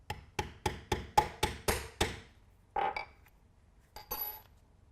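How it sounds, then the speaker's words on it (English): Mallet striking the strike post of a rivet removal tool set on a double-cap rivet: about eight sharp, evenly spaced close taps, then a pause and a few scattered softer knocks. "center it on my double cap rivet cap, and strike it with the mallet."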